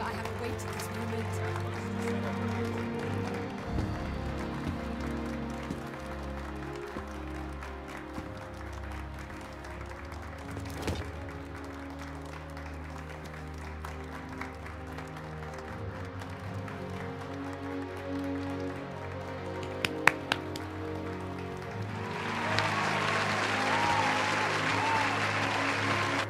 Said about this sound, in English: That's fake crowd noise. I piped that in.